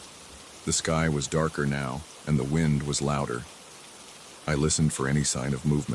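Steady rain falls on a dark, windy hillside, a continuous hiss running beneath a calm narrator's voice throughout.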